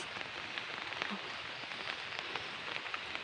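Heavy rain pours steadily onto surfaces during a downpour that floods the area around a house, a dense, constant hiss with scattered drop impacts, fairly soft and even throughout.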